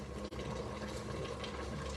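Vegetables and liquid pouring into an oxtail pot, a steady, dense wash of splashing liquid running continuously and close with no pauses.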